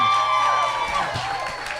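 Live podcast audience keeps clapping and cheering, a short, steady burst of applause with a few whoops mixed in and a faint voice over it.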